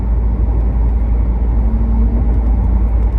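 Cars race along a road behind the speaker, a loud continuous engine rumble and tyre roar passing nearby with no talking.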